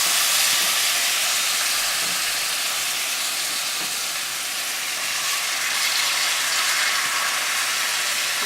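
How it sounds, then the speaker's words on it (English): Steaks sear in a hot pan with a loud, steady broadband sizzle and hiss that holds at an even level throughout, with no voices. "We take our steaks and add them right to the pan here."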